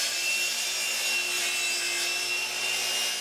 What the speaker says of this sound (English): Next step is to sand.